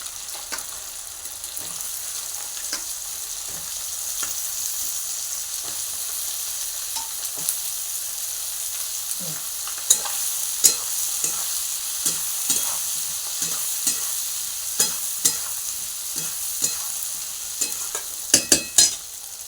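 Eggplant fries in oil left from frying fish, giving a continuous sizzling hiss while a spatula knocks and scrapes the pan in irregular strokes that grow louder toward the end.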